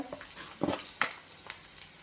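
Dried red chillies deep-frying in oil for pulihora give a soft, steady sizzle with a few sharper stirring clicks scattered through it. The sound is close and fairly quiet, and no one speaks.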